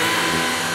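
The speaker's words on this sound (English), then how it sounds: "I think that's trying out his new Hoover." A new Hoover vacuum cleaner running indoors, giving a loud, continuous motor whir with an even broadband roar and no pauses.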